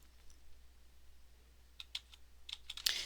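Fingers type on a computer keyboard, a quiet stretch followed by a scattered run of crisp, close key clicks that ends in a louder final press.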